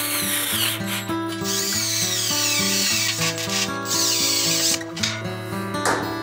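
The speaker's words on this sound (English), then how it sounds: "now we'll put a few screws in it" A power drill drives a few screws into a homemade fume extractor housing for a welding workshop, the motor whining in close, repeated bursts whose pitch steps up and down as each screw bites.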